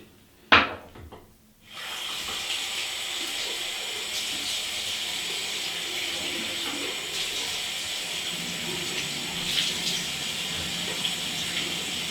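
Tap water runs steadily as a face mask is rinsed off, a close, even hiss of flowing water after a brief knock at the start, with no talking.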